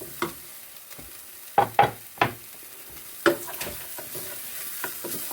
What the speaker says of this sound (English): At this stage, I'll put in my peppercorn.